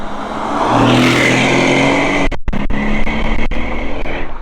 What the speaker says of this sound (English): We got a Mercedes right here.